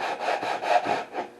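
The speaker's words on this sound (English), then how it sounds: "I'm just going to use this sanding block with some sandpaper." A sanding block with sandpaper is rubbed along wooden acoustic guitar binding, giving about six rhythmic back-and-forth scraping strokes, close and moderately loud.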